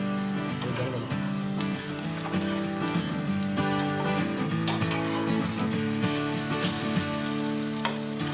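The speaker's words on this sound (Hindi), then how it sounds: "ये सही अंडा बन रहा है, ऑमलेट बन रहा है हमारा" An egg omelette frying in a kadhai, a bright, dense sizzle that runs steadily and close throughout, with occasional louder spits and pops and no talk over it.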